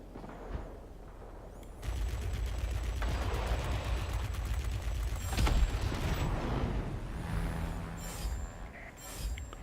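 A short pause, then an M61 Vulcan cannon on an F-94D Starfire in World of Warplanes roars almost continuously for several seconds, rapid-fire, loud and dense, with a heavier boom partway through.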